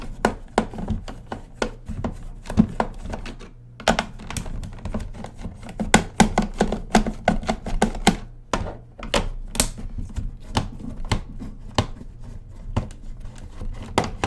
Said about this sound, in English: when I'm taking these screws out